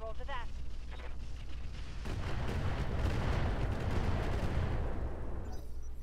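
Mech weapons firing in the Roguetech BattleTech video game, a heavy volley of booming shots and impacts swelling into a sustained loud rumble after a short quieter lead-in.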